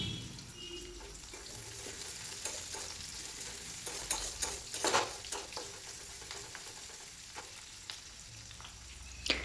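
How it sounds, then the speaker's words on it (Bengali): Chopped onion and garlic frying in a pan give a soft, steady sizzle with occasional light stirring scrapes and taps, fairly quiet and without voices. "পেঁয়াজটা খুব ভালো করে ভেজে নেব এবার ওটার মধ্যে দিয়ে দেব টুকরো করে রাখা রসুন"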